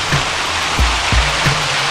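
Steady rain falling outdoors in Baltimore near a fountain, a broad continuous hiss of drops with a few low thumps and rumbles, no talking.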